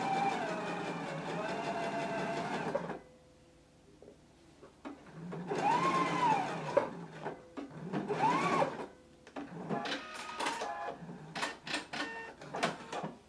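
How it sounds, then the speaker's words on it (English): Sewing machine stitching a 5/8 inch seam allowance on a Simplicity pattern garment with backstitching, steady whirring runs broken by pauses and short bursts, close and moderately loud. "we're going to stitch between this large circle and this notch at a 5/8 of an inch seam allowance, and make sure that you back stitch"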